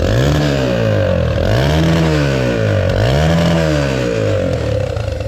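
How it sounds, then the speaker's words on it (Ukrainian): Exhaust of a Viper 150 motorcycle and a Delta 50cc moped, loud and close, revving up and falling back in three repeated sweeps over a steady rough idle. "Послухаємо вихлоп."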